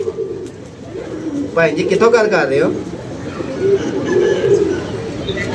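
Pigeons coo in soft, throaty bursts nearby, a rolling warble rising mid-way, while someone speaks over them.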